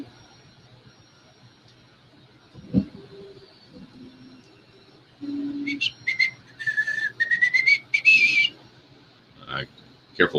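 A person whistles a short, bright melodic phrase of rising and wavering notes in a quiet room during design work, preceded by a few low hums and soft knocks.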